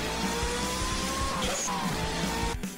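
A car pulls away from the roadside after the handbrake is released. The engine drones loudly and steadily throughout, with tire and road noise rising briefly near the end.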